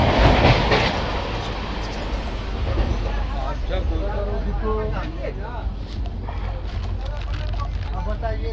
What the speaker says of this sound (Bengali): হাওড়া থেকে ট্রেন ছেড়ে দিয়েছে